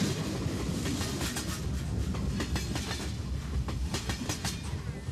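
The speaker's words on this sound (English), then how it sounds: "The train offers all the comforts needed for a long ride through the mountains." Passenger train rolling through Tibetan Himalayan mountains, a steady loud rumble with rhythmic clickety-clack of wheels on the rails and occasional metallic squeals, heard from close by with no talk.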